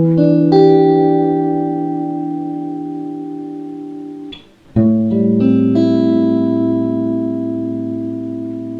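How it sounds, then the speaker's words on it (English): Clean guitar playing a simple melody that arpeggiates the chords, sustained ringing notes with effects-like shimmer, a brief dip in the middle before the pattern resumes, loud and alone. "I then introduced a guitar melody which simply arpeggiates the chords,"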